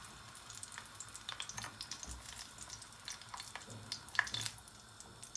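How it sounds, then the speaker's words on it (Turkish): Red kapya peppers fry quietly in oil, a soft crackle and sizzle with small pops throughout and no voices. "Kapya biberleri kızartacağız fakat çok da öldürmeyeceğiz."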